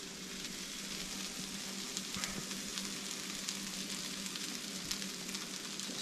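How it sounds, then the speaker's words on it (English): Hot three-pepper quesadillas sizzle on a griddle, a soft, steady frying hiss with faint crackles, quiet and alone. "these are still sizzling. They're nice and hot."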